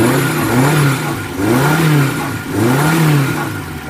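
A 1982 Suzuki Jimny 4x4 engine runs close by, swelling through three rising and falling revs over a steady mid-pitched drone, with no talk over it.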